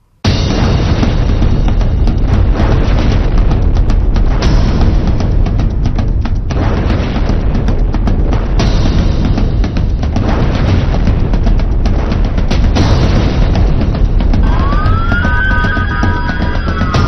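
The Beirut port blast, heard as a loud, sustained rumbling roar with crackling debris throughout, and a wailing emergency siren rising near the end.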